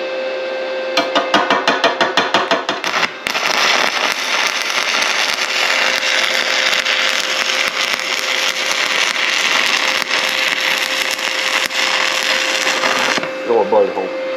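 Sefaspe ARC 200 PRO arc welder running a weld on metal, a loud, dense crackling buzz sustained for about ten seconds after a series of short sputtering starts, with a steady electrical hum underneath and talk in places.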